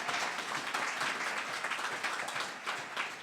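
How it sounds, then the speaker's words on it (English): Dense, sustained applause from a large audience at a graduation ceremony, a continuous crackle of many hands clapping at even loudness throughout. "how about another round of applause for our graduates today?"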